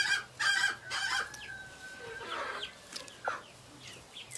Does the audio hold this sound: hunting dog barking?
no